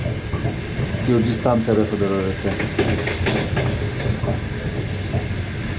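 Inside a moving passenger train travelling through snowy mountains near Kazbegi toward Georgia, a steady low rumble and rattle of the carriage runs throughout while someone talks over it.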